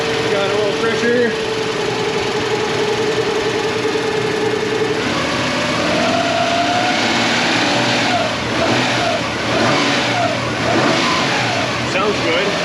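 A 2000 Nissan Pathfinder with its 3.3 engine runs close by, settling at idle and then revving in surges, loud and continuous, while people talk over it.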